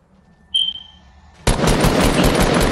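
Fortnite gunfire: after a quiet lead-in with a short high tone, a loud burst of rapid shots erupts and continues steadily to the end, up close and unaccompanied by talk.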